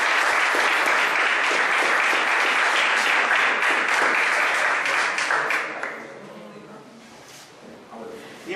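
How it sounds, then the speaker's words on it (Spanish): Audience applause welcoming a conference speaker, a dense sustained clapping crowd filling the room, loud and steady before thinning out and fading over the last few seconds. "recibamos con un aplauso a nuestro amigo y conferencista, el señor Diego Clavijo"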